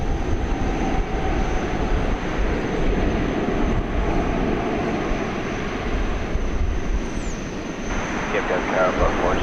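Boeing 757 jets at DFW Airport give a steady, broad engine roar that holds for several seconds without a clear peak, with faint background voices underneath.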